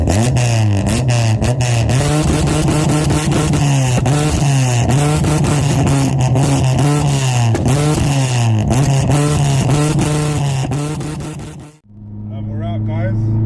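Honda Integra Type R DC5 in Championship White pulling away, its engine revving loud and close with strong rising and falling harmonics, then cutting off abruptly near the end before a lower steady hum.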